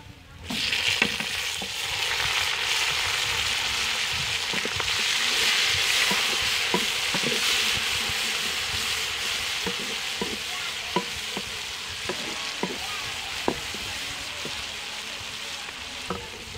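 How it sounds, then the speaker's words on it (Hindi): Tomatoes and chillies are added to browned onions frying for a chana aloo curry, giving a loud, steady, close sizzle with a sharp burst at the start and irregular spoon taps and scrapes throughout, with no talk. "प्याज का कलर ब्राउन हो गया, अब हम इसमें डाल देंगे टमाटर मिर्च।"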